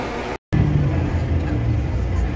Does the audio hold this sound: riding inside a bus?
yes